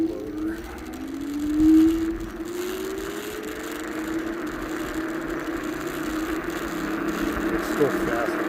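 Small T88 Plus RC car with its electric motor switched to single motor mode, a steady whirring drone with a rising pitch sweep early on and a light mechanical rattle throughout, fairly close and continuous.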